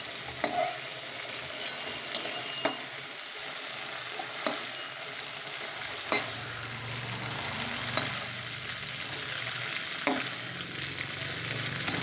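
Prawns fry lightly in a pan with a continuous soft sizzle, punctuated every second or two by sharp utensil taps and scrapes.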